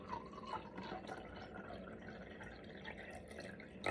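Tap water pours into a vessel to be heated for loose tea, a soft, steady trickle and splash heard close up but quietly.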